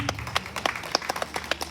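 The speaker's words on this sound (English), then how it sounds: "So let's all give them a great big round of applause." Applause for committee members at a reception, a crowd clapping in scattered, uneven bursts across the short stretch, moderately loud with no voices over it.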